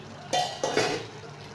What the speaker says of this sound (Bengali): এখন আমি ঢাকনাটা খুলে দিয়ে দেখব কি পরিস্থিতি